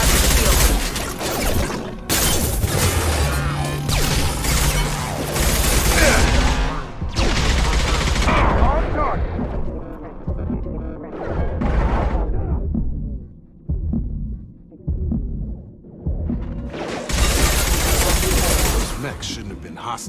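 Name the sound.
gunfire in a firefight, from the video game Mass Effect 2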